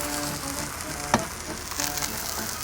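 A grilled cheese sandwich sizzles steadily in a hot skillet, a constant close frying hiss with one sharp click from a spatula just after a second in, no talk over it.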